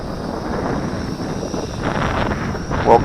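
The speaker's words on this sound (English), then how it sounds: "We got a 15 mile per hour wind, and it's flying in this wind." Steady wind buffeting the microphone outdoors around an MJX X400 drone flying in a 15 mph wind, a continuous broadband rush with a brief louder gust near the end.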